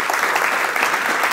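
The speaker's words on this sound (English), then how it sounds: "I want a big round of applause for Fernando" A live audience claps together in a steady, dense round of applause for a guest at a tech talk, loud and continuous with no voices over it.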